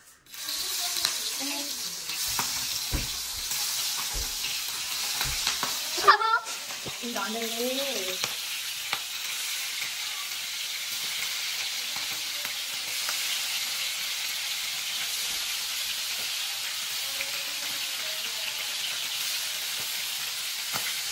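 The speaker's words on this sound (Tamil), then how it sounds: "இப்போ நாங்கள் ரால் தான் பொரிக்க போகிறோம்" Steady, dense sizzling of prawns frying in hot oil, continuous and fairly loud from start to finish, with a brief clatter and a short voice early on.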